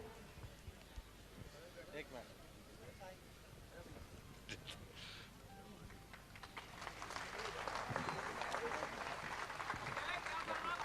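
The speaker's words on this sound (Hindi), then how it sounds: "एक बार फिर आपके हाथ ऊपर ऊंचाइयों पर आ जाएं, जोरदार तालियों के साथ" A hall audience at a religious discourse in Jabalpur breaks into applause, distant and faint at first under murmured voices, then swelling into fuller sustained clapping over the last few seconds.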